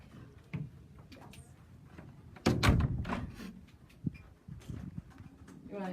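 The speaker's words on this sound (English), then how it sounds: "You want this door closed?" A door swings shut with one solid thump about midway, surrounded by quiet room shuffling and small knocks at low level.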